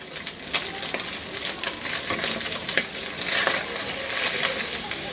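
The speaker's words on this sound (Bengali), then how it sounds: "আমি এতক্ষণ হাই ফ্লেমে ভাজতেছিলাম" Ginger garlic paste frying with meat in a pan over high flame, a steady crackling sizzle with scattered sharp pops, close and fairly even throughout.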